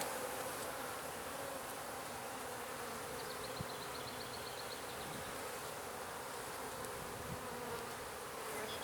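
Honeybees in a newly installed hive hum in a dense, steady buzz, close and constant throughout, with a few faint clicks and no talking.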